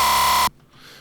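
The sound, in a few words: dubstep bass sample time-stretched in warp mode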